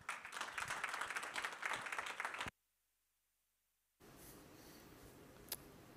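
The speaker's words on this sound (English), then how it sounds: "So welcome him on stage with an applause." Applause from a hall audience welcoming a speaker on stage at a cybersecurity event, a burst of clapping that cuts off abruptly into silence before faint room noise returns.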